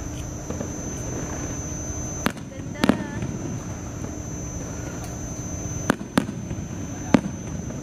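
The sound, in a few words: fireworks exploding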